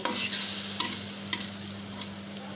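Spices fry in a pan, being cooked down for a goat brain dish, under a low steady sizzle with a few separate scraping strokes of a spoon, close by, with nobody speaking.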